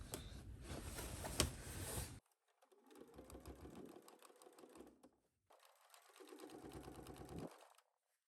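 Two short bursts of close sewing machine stitching, each a couple of seconds long with a pause between, as a machine fitted with a zipper foot and a moved needle topstitches over an earlier line of stitching, after a louder stretch of handling noise.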